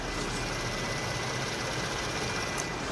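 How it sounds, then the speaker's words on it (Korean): A quiet, steady gasoline car engine idle, heard with the hood open, hums evenly with a broad, hissy wash of noise, no talking, no changes in level. "영상으로 엔진 소음 한번 담아보도록 하겠습니다"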